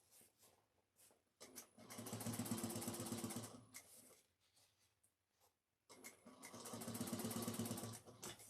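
A sewing machine stitches bias binding onto a bag in two sustained bursts of fast, even whirring, each a few seconds long with a pause between them; small handling noises fill the gaps.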